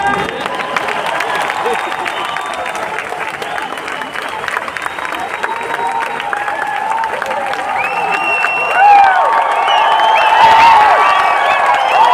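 Applause and some cheering from an audience at a direct-selling motivational talk, a steady mid-distance wash of clapping with scattered whoops that swells briefly near the end.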